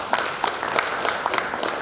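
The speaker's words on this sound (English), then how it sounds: "A huge round of applause" An audience at an HR summit applauds after a presentation, a brief, dense burst of many hands clapping with no voices over it.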